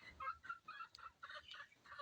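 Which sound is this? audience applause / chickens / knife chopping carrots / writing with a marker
chickens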